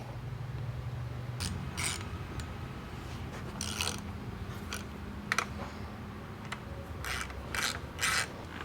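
Big bolts being tightened by hand during a Mako 360 Dually rack install for XC gear, heard as scattered clicking ratchet strokes and metallic clicks against low background noise, with no talk.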